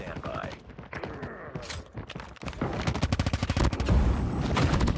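Someone talks briefly before the legendary Cordite gun opens up in a video game, pouring out a sustained, rapid string of close, punchy shots that keeps going to the end.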